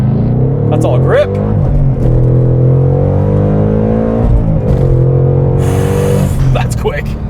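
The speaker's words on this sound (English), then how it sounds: "'21 Ford Mustang Mach 1. With launch control." A 2021 Ford Mustang Mach 1 with its 480-horsepower 5-liter V8 launches hard under launch control, a loud, close engine roar climbing through rising gear sweeps with a brief shift dip midway and a voice speaking over the end.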